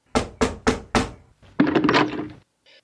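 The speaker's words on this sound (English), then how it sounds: "a few minutes later I was knocking on the alderman's door" Four firm knocks on an alderman's office door at the town hall, evenly spaced and close, followed by a longer burst of muffled thumping and a faint brief sound at the end.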